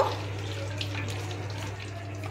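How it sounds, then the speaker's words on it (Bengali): Bread slices soaked in water and squeezed out by hand for aloo bread pakora, giving a steady close trickle and splash of water with a low constant hum beneath, no talking. "ব্রেডগুলোকে আমি প্রথমে জলে ভিজিয়ে নেব হালকা করে। তারপরে এটাকে জল থেকে এরকম চিপড়ে দেব।"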